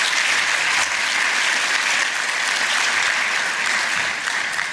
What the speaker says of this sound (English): let us all give Pankaj another round of applause and welcome him to the hall.